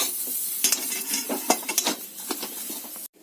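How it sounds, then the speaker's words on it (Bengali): A spiced potato filling with chilli powder and salt is stirred in a frying pan, scraping spoon strokes and light sizzling in quick irregular bursts, close and moderately loud, cutting off abruptly at the end. "খুব ভালো করে আলু পুরটা নেড়ে ছেড়ে তৈরি করে নেব"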